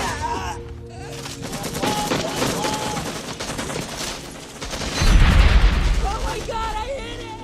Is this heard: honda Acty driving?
no